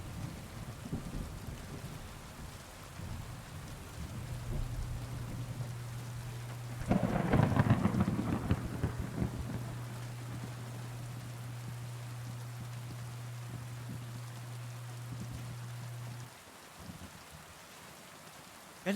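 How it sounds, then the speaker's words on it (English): Steady rain hisses throughout with a low rumble of thunder swelling midway, accompanied by a constant low hum that cuts off near the end; in-game rain from the video game Kingdom Come: Deliverance II. "if the rain was coming down like it is in the game"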